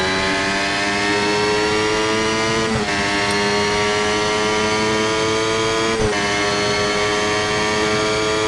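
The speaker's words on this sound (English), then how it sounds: "we use our slipstream advantage to make the overtake on Carlos Sainz as we make it down to the second corner" Simulated Formula 1 race car engine in F1 Mobile Racing, a steady loud high-pitched whine holding near top revs down a straight, with two brief dips around gear shifts while slipstreaming behind a rival.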